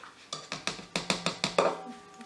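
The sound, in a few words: mixing batter with a spatula in a bowl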